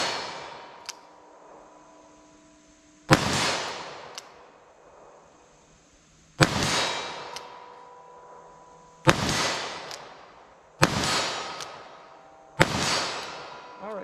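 A .410 revolver fires five sharp shots at an outdoor range, each a loud crack with a brief ringing tail, spaced roughly two to three seconds apart, with a faint click before the first.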